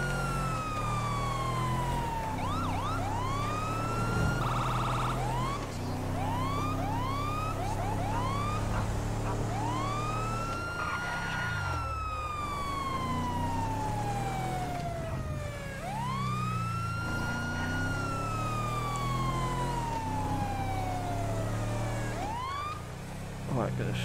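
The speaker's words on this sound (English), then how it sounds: "Alright, gonna shut my sirens off." Police siren in the video game Grand Theft Auto V wails and yelps repeatedly, rising and falling in long sweeps with quick chirping bursts, loud and continuous over an engine hum.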